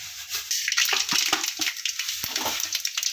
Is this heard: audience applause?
no